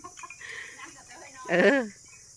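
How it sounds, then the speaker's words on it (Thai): Jungle fowl crowing once, a loud harmonic call near the end rising over faint background chatter and rustling at a rural temple garden with bananas and sugarcane. "ไก่ป่า"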